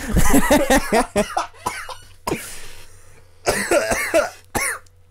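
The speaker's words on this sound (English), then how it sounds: "I think your coughing's entertaining enough." Several harsh, close coughs come in quick bursts, then a pause with breathy rasping, followed by another cluster of loud coughs.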